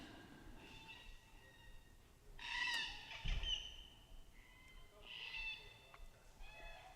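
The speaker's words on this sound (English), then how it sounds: "It's just the birds." Birds, including parrots, call around Honeymoon Pool campground, with a few loud, bright squawking calls rising over a steady, softer background of chirps and chatter.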